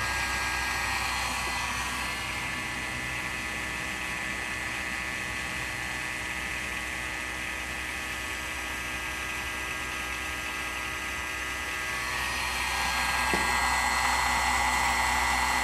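A Lindemann rotary attraction motor runs on pulses switched by a magnetic reed and transistor, giving a steady, close whirring hum with a bright buzzy edge that holds unbroken for the whole stretch and swells slightly near the end.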